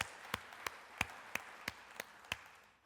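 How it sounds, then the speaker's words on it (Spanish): Sparse, evenly spaced claps from a church congregation during worship, about seven sharp hits roughly every third of a second over a quiet background, with no talking. "denle un aplauso"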